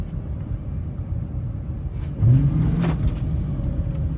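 Engine of a 2014 Dodge Charger PPV rattling as it is revved, a low, rough rumble that swells partway through into a louder, throatier rev before easing back to a steady idle.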